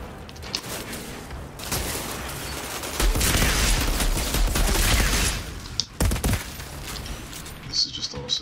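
Gunfire in the video game Outriders, a dense, rumbling barrage that swells into a heavy volley of overlapping shots midway, then breaks off into scattered bangs, with voices heard faintly under it.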